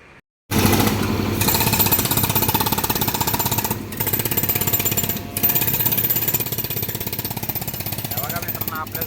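A machine hammers into and breaks up a concrete road, a loud, continuous rapid pounding that runs almost without letup after a sudden start, with a couple of brief dips.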